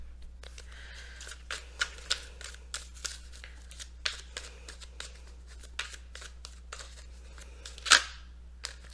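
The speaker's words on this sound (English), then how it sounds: "let's go ahead and see what you guys got here with the Romance Angels after I pre-shuffle the cards" Romance Angels oracle cards being pre-shuffled for a tarot reading: a steady run of crisp, close card snaps and riffles, with one louder slap near the end, over a low hum and no talk.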